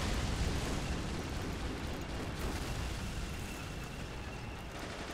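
Explosions from an RGD-40 anti-tank grenade in Men of War: Assault Squad 2 make a dense, sustained rumbling roar with crackling debris at steady loudness throughout, with no speech over it.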